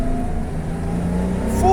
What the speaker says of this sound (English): Now we will test full acceleration.